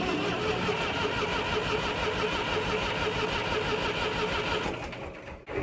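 A mid-sized engine runs with a steady, loud, rattling drone close by, then dips and falters abruptly near the end.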